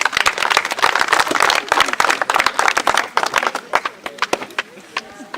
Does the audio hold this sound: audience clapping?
yes